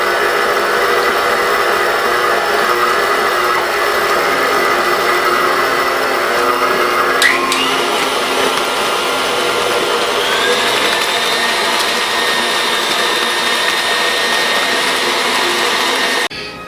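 A stand mixer hums loudly and steadily at close range as bananas are beaten into banana bread batter with shortening, sugar and egg. The motor whines on without pause, its pitch shifting slightly partway through, and no voices are present.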